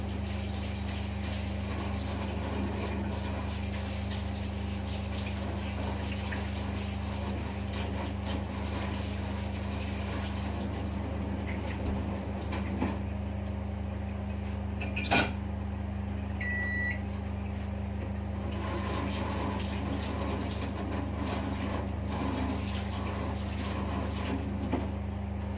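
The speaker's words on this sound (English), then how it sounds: "I'm just finishing, just washing up at the moment" Dishes being washed up at a home kitchen sink: steady running water and splashing under a constant low appliance hum, with one brief clink near the middle and no talking.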